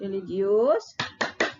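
Tepuk PPK classroom clap routine for children: a voice chants a word, then three crisp, evenly spaced hand claps ring out close by.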